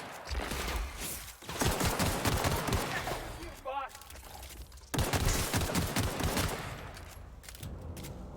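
Gunfire in The Outer Worlds video game: dense bursts of rapid shots over about eight seconds, loud and close, with a brief lull and a short tonal game sound in the middle before the firing resumes.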